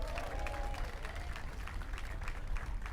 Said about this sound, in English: Give a round of applause for our city employees,